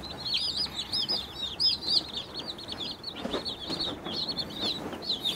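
Broiler chickens cluck and chirp close by in a coop, a busy overlapping chorus of short high peeping calls, with a few soft scuffling sounds partway through and no talking.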